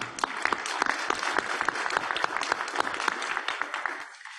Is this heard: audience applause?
yes